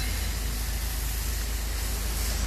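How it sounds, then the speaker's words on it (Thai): Air rushing out of the air suspension tank on an Isuzu truck, a steady loud broadband hiss that holds unbroken throughout. "เขาปล่อยลมถังโน้นเฉยๆ นั่นเอง"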